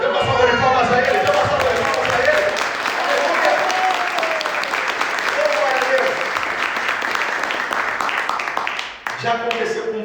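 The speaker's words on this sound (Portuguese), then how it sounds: "Dê uma salva de palmas a Ele." Church congregation at a celebration service breaks into sustained, dense applause that stays loud and even for several seconds. Voices rise over it in places, and it cuts off abruptly near the end, followed by a brief mix of sounds.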